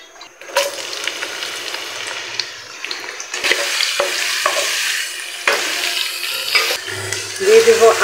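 Oil sizzling and crackling in a pan at the start of cooking chicken haleem, with stirring and utensil clatter, a steady frying hiss throughout and a few sharp scrapes near the end.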